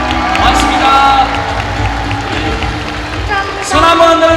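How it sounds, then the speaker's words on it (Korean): An audience cheers and claps for gymnast Son Yeon-jae at a youth talk event, the crowd's noise swelling in bursts while an announcer speaks over it. "여러분 손연재 우리 체조 여자께 큰 박수 한번 부탁드립니다"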